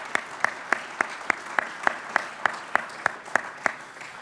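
Evenly spaced sharp claps, roughly one every third of a second, sound out clearly over a quiet room at a budget summit event, with no talk over them.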